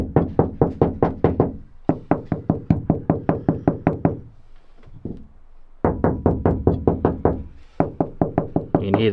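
Knuckles rap a Toyota Hilux body panel fitted with a sound-deadening sheet, in close, loud bursts of rapid knocks with short pauses between the runs.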